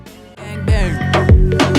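A song playing, a short loud burst of music with rhythmic bass hits and melodic vocal-like harmonics, no spoken words.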